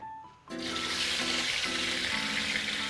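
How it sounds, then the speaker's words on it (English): Beef hits hot oil in a pan with a sudden loud sizzle that holds as a steady, crackling hiss, with a faint low hum underneath. "Then you use the same oil to fry the beef."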